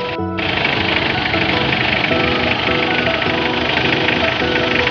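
A Mitsubishi 4D56 diesel engine from an L300, freshly overhauled and being broken in, runs at a steady idle with a dense, continuous knocking clatter, loud and close throughout after a brief break at the start.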